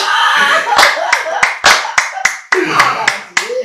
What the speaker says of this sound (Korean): 이 늙은 게 박수 친다고